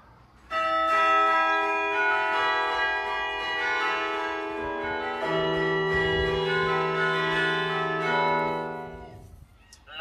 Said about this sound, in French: c'est le son de notre carillon